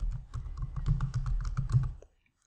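Typing on a computer keyboard: a quick run of about a dozen close, crisp key clicks in steady rhythm for two seconds, then silence.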